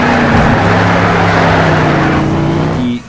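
Loud racing car engine in Need for Speed Shift holding a steady roar with sustained tonal tire squeals while cornering at high speed, continuous for about three seconds before cutting off.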